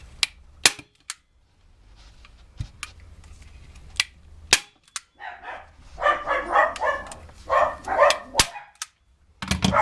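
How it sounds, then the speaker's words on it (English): Dogs bark in short, repeated bursts in the background of a room where a stool or bench is being reupholstered, with sharp loud staple-gun snaps sounding separately before and around them. "Sorry about the dogs."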